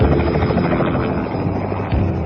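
Helicopter in flight high over mountains in a Rambo audio story: a steady, close, droning rotor roar holds at constant loudness throughout.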